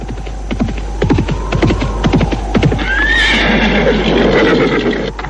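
Horses on a road whinny loudly over a steady low hum, with a quick run of hoof clip-clops early on, close and prominent, and no talking.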